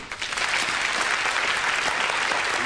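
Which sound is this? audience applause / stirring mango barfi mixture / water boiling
audience applause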